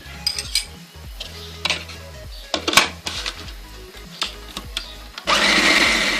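A kitchen grinder working reshmi kabab masala of spices and ghee: scattered clattering and knocking of the jar and utensils, ending in a loud, continuous whirring burst.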